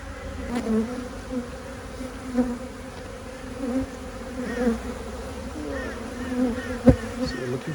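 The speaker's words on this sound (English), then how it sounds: "we still got heaps of bees" Honeybees buzz steadily in and around an opened hive after a swarm, a soft continuous drone with individual bees whining closer now and then.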